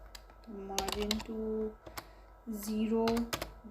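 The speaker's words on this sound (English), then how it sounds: "Kindly excuse the keyboard noise." Bursts of keyboard clatter, quick clicky keystrokes in short runs, close by, while a person talks intermittently over them.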